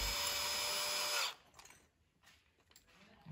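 A bore well drilling rig grinds away loudly and steadily with harsh, broadband noise for just over a second, then cuts off abruptly, leaving faint background sounds.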